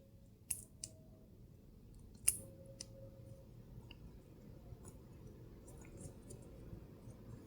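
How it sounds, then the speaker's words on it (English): Sharp, close clicks from an Olight Warrior Nano tactical flashlight's side and tail switches, a few distinct snaps spaced apart with faint quieter ticks in a quiet room. "you have to full press and then click the side switch here"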